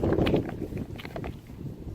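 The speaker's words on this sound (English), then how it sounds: "Sorry about the wind." Wind blowing outdoors and buffeting the microphone, a steady low rumble with louder gusts at the start, heard alone at moderate level.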